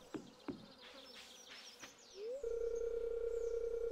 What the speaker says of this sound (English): Most of the bites I'm getting are from the mosquitoes.